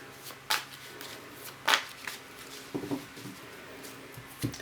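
Tarot decks, a Rider-Waite among them, shuffled by hand: a few separate crisp riffling bursts with soft card handling and taps between, close and fairly quiet, no voice.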